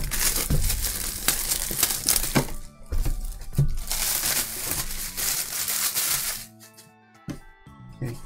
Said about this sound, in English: so cut the little cardboard insert